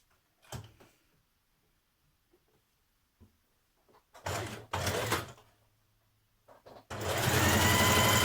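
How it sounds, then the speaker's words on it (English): A sewing machine stitches a blouse sleeve closed at the side seam and underarm, running in two clear bursts, the second steady and sustained to the end, after quiet handling noises. "I'm going to stitch the sleeve together at the side, at the underarm."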